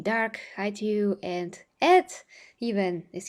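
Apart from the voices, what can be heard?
No everyday noise stands out behind the speech.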